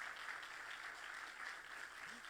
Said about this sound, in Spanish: Si le vas a dar ese aplauso al Señor, dáselo con más vida, por favor.